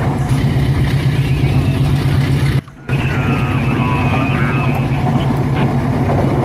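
A locomotive engine drones steadily in a train simulator video game, a loud continuous low rumble with a short break partway through. It carries on alone with no voices.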